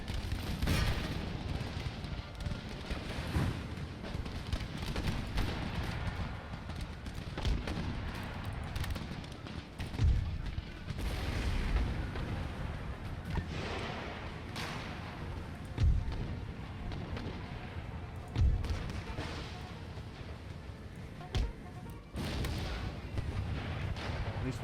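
Volleys of musket and artillery fire roll through a large Empire: Total War battle for Vienna, a dense continuous din of gunfire punctuated by sharper booming cannon shots every few seconds.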